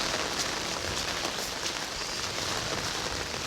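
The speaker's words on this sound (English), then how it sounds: "maybe the rain will stop tomorrow" Steady rain falling on a rainy summer hike with an umbrella carried, a soft continuous patter with no voices, even and fairly quiet throughout.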